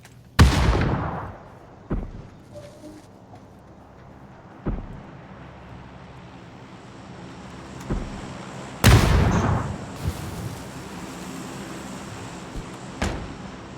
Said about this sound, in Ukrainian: Я зараз гранату закину